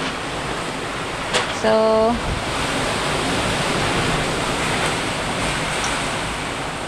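Strong typhoon wind of Typhoon Odette roars as a loud, continuous broadband rush, with a brief voice and a short tonal chirp early on.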